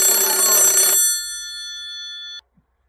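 A telephone bell rings loudly in one bright, shrill burst, then the tone hangs and fades before cutting off abruptly, with no voices.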